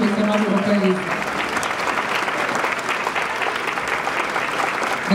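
Audience applause welcoming Luciana Arbedi at the opening and ribbon-cutting of a violin museum, a dense, steady clapping from a crowd that fills the whole stretch with even loudness.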